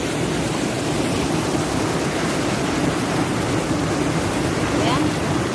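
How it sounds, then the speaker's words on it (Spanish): A rushing river current near Tancoco, Veracruz, pours out as a loud, dense, unbroken wash of water noise, close by and steady throughout. "Ya me encuentro un poco más arriba de lo que es la corriente"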